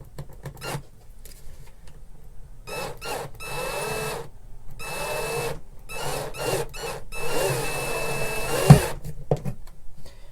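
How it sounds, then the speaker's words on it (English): A small power drill whirs in short bursts with pauses between, then a longer run ending in a sharp pop, close and fairly quiet, as it drills down through the inlays of an Ovation CE44P spalted maple acoustic guitar. "let me go ahead and fire up the drill, and we're just going to go down through these inlays"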